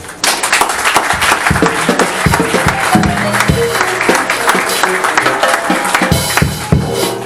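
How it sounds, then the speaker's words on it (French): A church congregation at a pastor's seminar applauds loudly and continuously, a thick wash of claps with some louder individual hits and crowd noise mixed in. "Est-ce que quelqu'un peut applaudir Jésus?"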